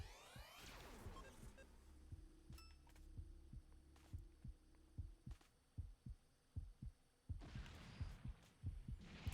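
Steady heartbeat thumps from a video game pulse in a regular rhythm, quiet and alone over a faint low hum, with a couple of brief electronic swells.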